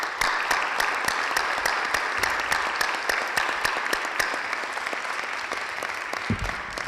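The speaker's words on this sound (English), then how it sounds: "I would like to applaud all three of you for" Sustained applause for three candidates at a Democratic candidate forum, a dense steady patter of many hands clapping throughout, loud and continuous with no talk over it.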